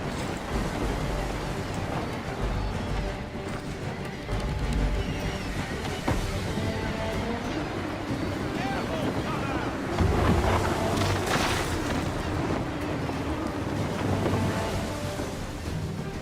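A sailing ship at sea in Assassin's Creed 3, with constant wind buffeting, rushing waves and hull wash, plus creaking and faint voices now and then.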